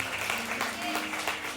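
A church congregation claps together in a short, dense burst of steady applause with a faint musical tone underneath.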